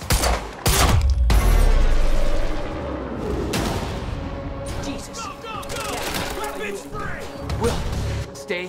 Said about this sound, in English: Target's armed. Opening fire. We're pinned down.